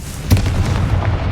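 Confringo explosive spell in Hogwarts Legacy: a short, loud booming blast with a sharp onset, followed by rumbling debris-like crackle, heard alone.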